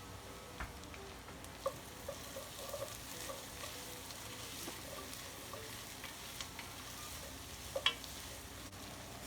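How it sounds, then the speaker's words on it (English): Two or three cloves of chopped garlic sizzle in a pot for New England clam chowder, a steady soft frying hiss broken by occasional scrapes and clicks as it is stirred, with no talking. "Stir it up, give it a minute or 2."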